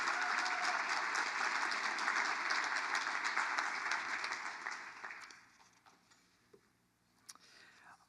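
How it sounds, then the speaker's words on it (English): Audience applause at a state arts and heritage awards ceremony, dense clapping filling the room for about five seconds before fading to scattered claps and quiet. "let's give another round of applause to Manny and his team at Inspire Washington"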